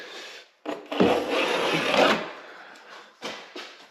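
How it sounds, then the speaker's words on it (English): A knife run along drywall to cut through old caulking during a guest house renovation, giving a few rough, rasping scrapes: one long steady drag in the middle with shorter strokes before and after. "anytime you're doing anything against drywall, run a knife along it"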